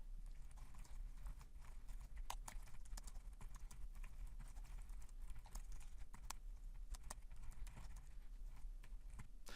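Rapid keystrokes on a computer keyboard while an email is written in Outlook, a steady dense patter of clicks running throughout with a few sharper taps standing out.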